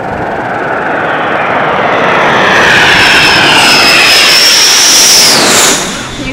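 A jet fighter aircraft from a fighter wing lands at an international air show, its engine a loud, sustained roar with a rising whine that holds steady and then drops off at the end.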